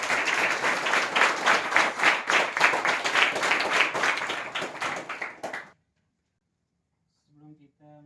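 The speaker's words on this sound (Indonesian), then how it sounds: "Berikan tepuk tangan untuk teman kita" Students in a classroom clap for a classmate, a dense burst of applause lasting about five seconds before cutting off abruptly, followed by brief talk.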